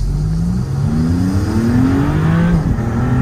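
A Maserati MC20 in Corsa mode launches from a standstill toward 50 km/h, its engine note loud and close, climbing steadily in pitch through the run with a brief dip as it shifts.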